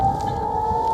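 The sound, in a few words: air raid sirens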